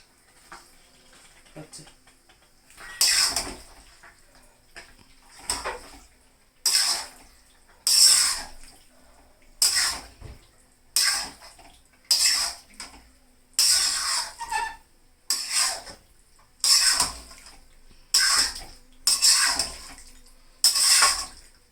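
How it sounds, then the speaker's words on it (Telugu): Chicken fries in masala in a pan, a run of about a dozen loud, close stirring and scraping bursts with a sizzle, evenly spaced after a quiet start. "మొత్తము చికెన్ బాగా ఫ్రై అవ్వాలి ఫస్ట్ మసాలాలలో."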